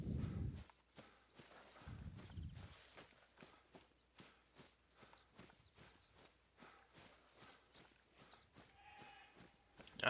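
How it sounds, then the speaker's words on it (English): In the hunting game Call of the Wild, set in Iberian hill country, a distant goat bleats faintly amid soft repeated footstep-like thuds and rustling, with low thumps near the start. "I hear a goat."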